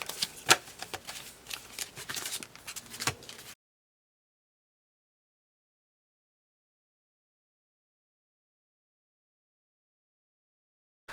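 Paper cash bills are riffled and flicked by hand while being counted for budget envelopes, a few seconds of quick papery shuffling and snaps followed by silence.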